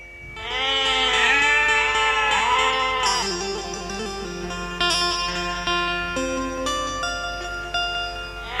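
A folk performer imitates goats bleating, a long wavering nasal bleat that breaks into several shorter quavering cries, loud and close with no other sound.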